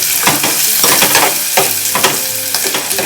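Garlic and onion frying in a hot cooking pot, a loud close sizzle and crackle broken by repeated scraping stirs of a utensil against the metal, with no talking.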